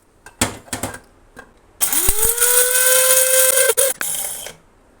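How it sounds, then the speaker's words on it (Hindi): An electric spice grinder whirs loudly with a high steady tone, grinding whole spices with a spoonful of amchur powder for achari bhindi masala, after a few short knocks as the jar is set in place. "ग्राइंडर में डाल के पीस लूँगी।"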